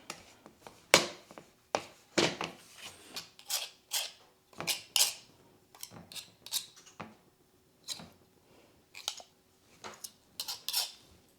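A knife cuts cold butter into flour in a bowl while making lemon bars, giving a run of close, sharp clicks and scrapes against the dish in an irregular rhythm, with no talking.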